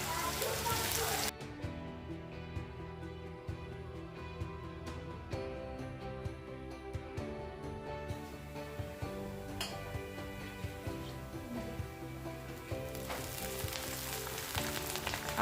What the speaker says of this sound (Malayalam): അപ്പോൾ ചെറിയുള്ളി ഇട്ട് കൊടുത്തു. ഇനി നന്നായിട്ടൊന്ന് വഴറ്റിയെടുക്കാം.